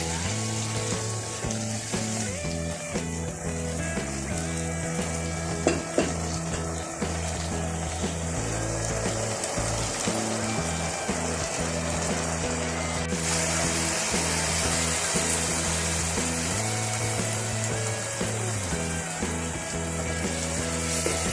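Chicken keema with chopped ginger frying in a pan gives a steady, continuous sizzle that holds at an even level throughout, with a low background hum and no voices.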